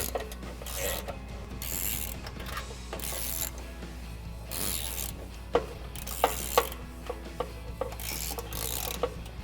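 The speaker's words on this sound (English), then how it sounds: "we can take a 16mm deep socket, and I have a small extension here just so our ratchet's not clanking up against our bumper." A hand ratchet fitted with a 16mm deep socket on an extension tightens bolts on a Jeep Wrangler JL front bumper, clicking in bursts with rubbing and metallic clanks, close and without talk.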